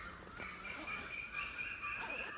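Birds call on a forested island in Kerala, including crow-like caws and a sustained whistling call, faint and distant against a soft outdoor background.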